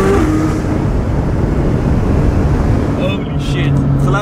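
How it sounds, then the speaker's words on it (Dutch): A loud, steady engine roar fills the whole stretch, a McLaren running hard and close, with a few sharp pops near the end. "Het geluid is echt niet normaal van deze auto."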